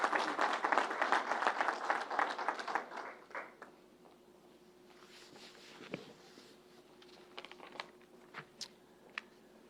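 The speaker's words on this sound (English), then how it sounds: "So for them, they need a round of applause as well." An audience at a COVID-19 vaccination event breaks into a round of applause, loud dense clapping that fades after about three seconds, leaving scattered faint claps and room noise.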